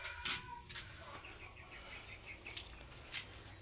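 Chickens in a farm coop flap their wings and cluck softly, with a brief flurry of movement near the start and faint scattered bird sounds after it in a quiet outdoor setting.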